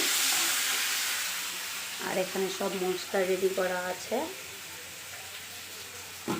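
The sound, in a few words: potatoes frying for chicken curry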